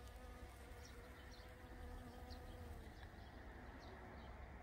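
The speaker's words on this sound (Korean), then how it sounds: "벌들이 와," Bees buzz around flowering garden plants in May, a faint, continuous, steady drone with no voices.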